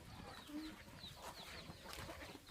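Chickens on a small farm cluck softly and intermittently, a few short calls rising over a faint, steady background.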